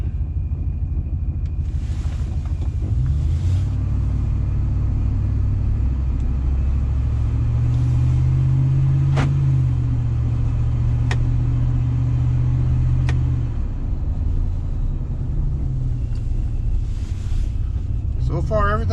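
A supercharged 2012 Hemi Ram 1500 truck drives steadily, with a continuous low engine and road rumble and a faint whistle from the supercharger bypass valve, while a person talks over it inside the cab.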